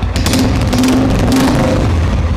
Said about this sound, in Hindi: आप एग्जॉस्ट सुन सकते हैं इसका